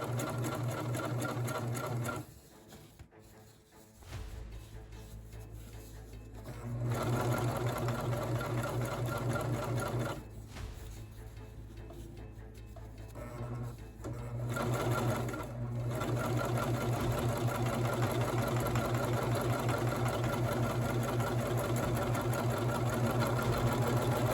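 A sewing machine runs a safety stitch on a pumpkin-coloured fall jacket with a loud, steady close mechanical whir. It pauses briefly a few times, then resumes at full speed.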